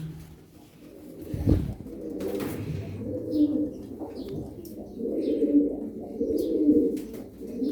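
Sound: tumbler pigeons cooing

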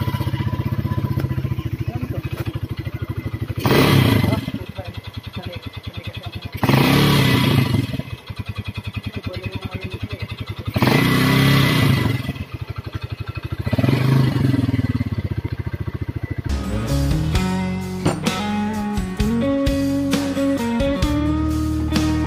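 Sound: noisy motorcycle engine running with HGL oil

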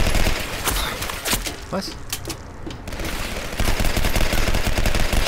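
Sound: gunfire from a video game

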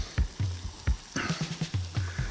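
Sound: onions frying in a pan for gravy

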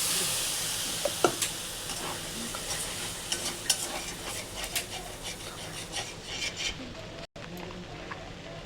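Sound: frying spice paste with onion in a pan

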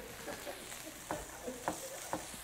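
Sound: stirring a pot on the stove

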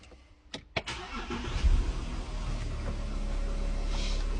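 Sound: Audi Q7 car engine starting

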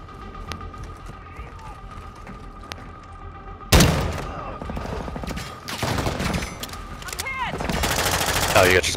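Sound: gunfire in a video game

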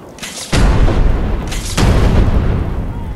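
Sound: gunfire in the video game Fallout 4

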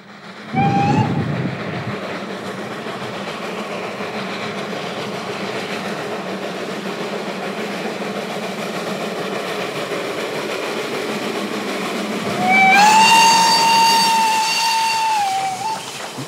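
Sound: train arriving at Chemnitz station

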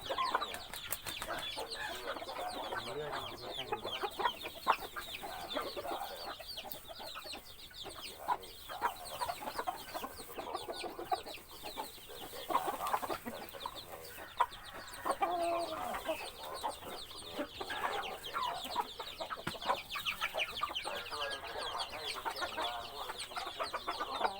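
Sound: young fighting cocks clucking

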